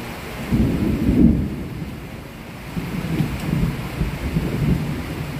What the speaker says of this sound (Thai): ฝนไม่ตกหนักแต่ว่าฟ้าแลบฟ้าร้องเยอะเลย